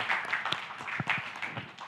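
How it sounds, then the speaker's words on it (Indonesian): An audience claps together for a performing group, a dense run of applause with scattered individual claps standing out, steady and fairly close. "kita tepuk tangan ya"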